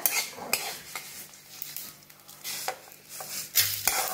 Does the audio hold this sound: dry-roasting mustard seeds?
yes